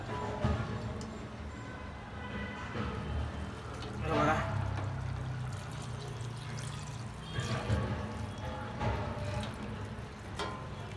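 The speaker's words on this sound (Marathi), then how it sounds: "परात ठेवलेलं पाणी गरम झालं या आपण टाकून घेऊया आतमध्ये" Hot water is poured steadily into a pot of village-style chicken soup, a continuous rushing splash over a sizzling background, swelling briefly a few times.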